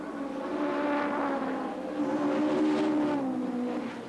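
BMW touring race cars at the 1990 Birmingham Superprix accelerating hard out of a left-hand turn, several engines snarling and rising in pitch together, steady and fairly close with no voices.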